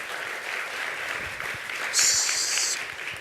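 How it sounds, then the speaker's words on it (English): Audience applause at the IACC 2018 opening ceremony, a steady, moderately distant patter of many hands with a high tonal tone overlapping near the middle. "Remember this kind of applause."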